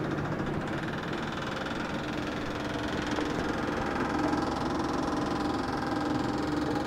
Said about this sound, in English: So let's turn the fuel pump on and see what happens.